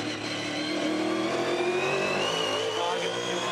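A Supercars race car engine in a 2017 race screams near the top of its rev range, a sustained high-pitched howl that climbs slightly in pitch, loud and unbroken with no talk.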